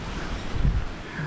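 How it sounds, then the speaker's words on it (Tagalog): Strong storm wind gusts roar steadily across an outdoor catering party setup, buffeting the microphone with a low continuous rumble and a brief stronger gust midway. "Lakas ng hangin mga beli."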